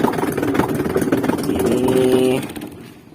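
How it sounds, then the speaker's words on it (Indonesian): A Samsung washing machine showing error code UE runs with a rapid, rhythmic clattering and motor drone, close and fairly loud, then cuts off abruptly near the end. "di sini bisa teman-teman perhatikan bunyi kletak-kletuknya"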